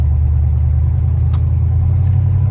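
Inside a 1986 Buick Regal on the move, the engine gives a loud, steady low drone with a constant rumble and no change in pace, with no voices.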